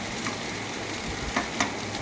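Ivy gourd (kovakka) thoran stir-fries in a pan with mustard seeds, chili and curry leaves, giving a steady close sizzle with a few sharp spatula scrapes against the pan.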